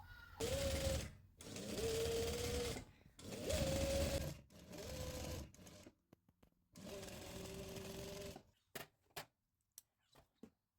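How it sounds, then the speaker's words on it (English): A sewing machine stitches elastic into a shirred dress in several loud running bursts separated by pauses, followed by a few short clicks and handling noises at the end. "For us to put elastic, we are going to stitch"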